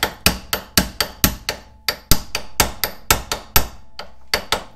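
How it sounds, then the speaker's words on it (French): A hammer strikes a steel pin punch again and again to drive out a rear ball joint on a Lotus Elise, about fifteen sharp metallic blows in a steady rhythm, loud and close with no talk. "on prend un marteau, un chasse-goupille et on frappe dessus pour sortir la rotule"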